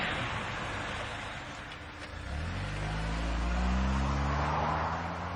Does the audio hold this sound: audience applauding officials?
no